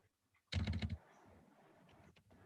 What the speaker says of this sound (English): Someone is typing something.